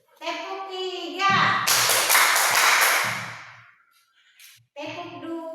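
Children play a counting clap game in class, a burst of several quick group claps between short spoken calls from a voice, then a pause and more talk.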